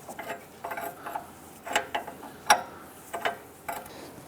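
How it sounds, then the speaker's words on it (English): A 22mm wrench ratchets while tightening the upper ball joint nut on a 2002-2008 Dodge Ram 1500 front end, a series of short metallic clicks and clanks in irregular bursts, close and without talk. "use our 22mm wrench and go ahead and tighten down the upper ball joint"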